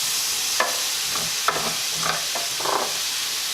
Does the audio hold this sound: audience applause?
no